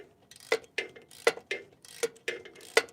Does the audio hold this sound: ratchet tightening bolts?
yes